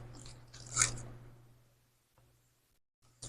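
A single crunchy bite into cornflake-coated ice cream, a short dry crackle near the mic that fades into quiet, with a low steady hum underneath.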